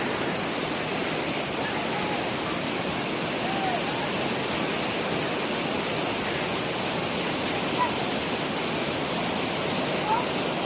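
Sea waves wash along Kunkeshwar beach in Devgad, a constant broad rushing surf that stays loud and even throughout with no distinct pauses between breakers.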